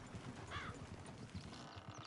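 Horses' hooves clip-clop in an uneven, overlapping patter, with a brief whinny partway through, all fairly faint and distant.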